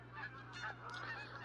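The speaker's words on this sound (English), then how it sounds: "Canada goose." Canada goose honking in the hunting game Call of the Wild, a few repeated nasal honks over a steady low ambient hum, fairly faint with no talking.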